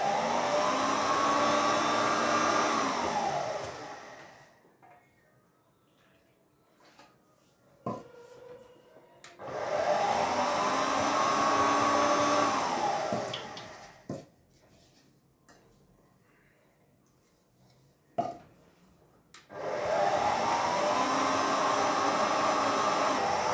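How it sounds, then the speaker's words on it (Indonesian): An electric mixer kneads donut dough in three separate whirring runs, each winding up and down, with quiet gaps between them holding faint clicks and kitchen handling; close and fairly loud. "Dan saya mau mixer ini sampai kalis."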